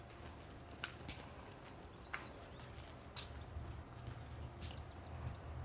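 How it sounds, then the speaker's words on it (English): Faint, distant birds tweet in a California home garden in April: a few scattered short chirps over a steady low background hum. "Oh, I hear birds tweeting."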